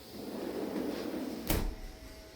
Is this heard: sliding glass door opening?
yes